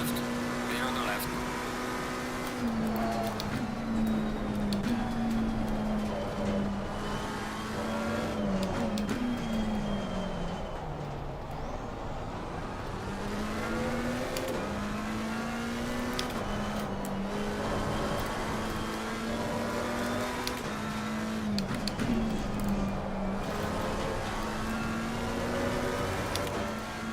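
McLaren 720S Evo GT race car in Assetto Corsa Competizione at Misano, its engine droning with repeated rising and falling gear-shift sweeps over about half a minute, loud and continuous.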